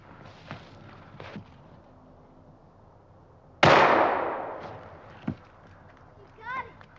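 Gunshot while hunting, one sharp, loud rifle crack with a decaying tail amid quiet outdoor ambience and a few faint rustles.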